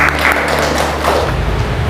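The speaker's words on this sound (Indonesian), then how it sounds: "Tepuk tangan untuk kalian dulu." Students in an Indonesian school classroom applaud together, a dense burst of clapping that continues steadily over a low background hum.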